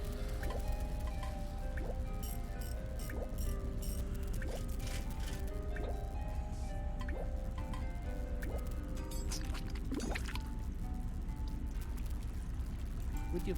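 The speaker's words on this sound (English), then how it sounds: "I could hear water flow through the pipe" Water runs through a pipe in the point-and-click adventure game The Little Acre, a steady wet trickle with regular dripping plinks over a low, constant flow, moderately quiet and free of speech.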